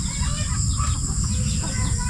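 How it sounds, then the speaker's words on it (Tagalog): Chickens cluck on a farm amid dense, loud, constant background noise, with a steady high tone running throughout and no talking. "Manok."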